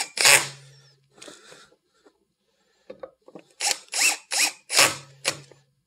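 Screws are tightened on a car's mass airflow sensor housing with a ratcheting hand tool, giving close, sharp clicking bursts in two groups separated by a pause, the second a quick run of five or six ratchet strokes.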